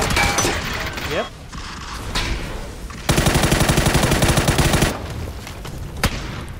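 Gunfire in the battle-royale game PUBG: a dense rapid burst of shots runs for about two seconds mid-clip, then one sharp crack follows near the end, with voices and game noise around it.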